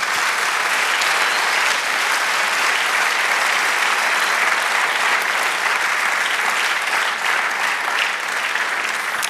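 Congregation in a church clapping for the Lord, sustained dense applause filling the room at steady volume.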